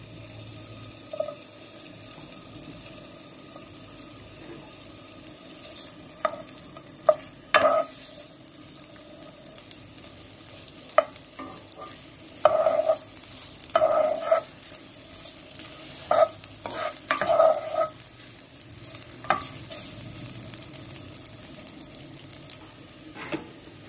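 Ginger fries in sesame oil in a pan with a steady, close sizzle, broken by irregular scrapes and clinks as it is stirred.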